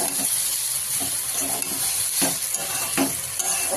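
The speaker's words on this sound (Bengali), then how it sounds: "আর আলু ভাজা হচ্ছে" Potatoes fry in just a little oil with a constant close sizzle, broken by a few soft scraping stirs of a spatula in the pan, with no one talking.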